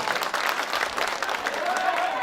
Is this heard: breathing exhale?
no